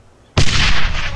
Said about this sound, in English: Watch out! I'm throwing a grenade!